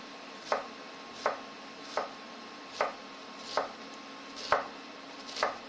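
An onion being chopped with a knife on a cutting board, seven or eight sharp distinct thuds at a slow, fairly even pace, close and clear with no talking.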